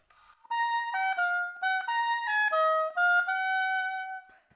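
An oboe plays a junior high all-region etude phrase in a dotted eighth-sixteenth rhythm, slow, clear and close, with a long-short lilt across several notes and no talking.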